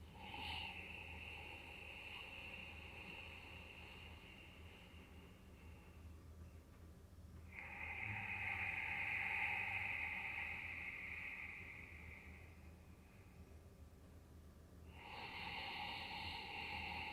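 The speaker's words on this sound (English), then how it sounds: "Now extending the inhale by a count of 1." Long, steady inhale drawn through the nose during an intermediate breathwork exercise, a soft airy rush swelling and holding for several seconds, set between quieter breaths, close and alone with no talking.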